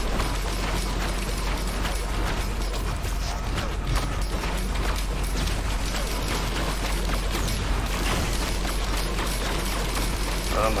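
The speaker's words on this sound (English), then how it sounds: "it's the sound of critical hits repeatedly" Critical hits from the video game Risk of Rain 2 land in rapid, dense succession, a loud, continuous metallic clatter with no pauses and no voices over it.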